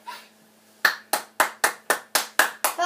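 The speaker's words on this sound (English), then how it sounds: "You clap so loudly." Eight loud, sharp hand claps ring out close by in a quick, even rhythm after a brief quiet start, each with a crisp attack and short decay.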